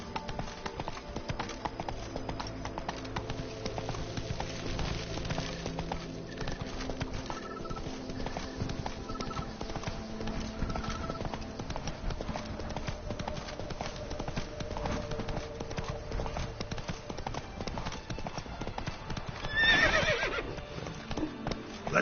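Roach, a horse in a video game, gallops with quick clip-clop hoofbeats throughout, then lets out a loud neigh near the end; faint game ambience sits underneath.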